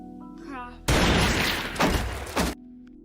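A loud burst of broadband noise, with two more sharp bangs swelling inside it, cuts in abruptly after a short quiet stretch, like gunfire in a film.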